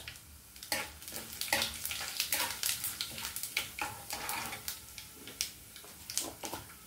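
Mustard and cumin seeds crackle and pop in hot oil as a tempering for a bottle gourd, moong dal and tomato curry, a steady run of quick sharp sizzles close by, with no talk.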